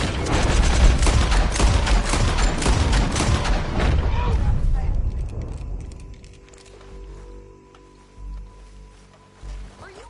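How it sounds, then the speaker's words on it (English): Dense volley of gunshots from a Red Dead Redemption 2 shootout, loud and rapid for the first several seconds, then fading to a few scattered distant shots and quiet rumbles. "I shoot."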